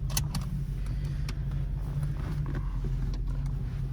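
Rumbling V8 engine from a Mustang fitted in a Rover car, a steady low idle-like drone close by with faint rattles and small bumps over it, no talk.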